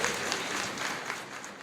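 Brief, fairly faint applause from a church gathering, a dense wash of many hands clapping that fades slightly at the end.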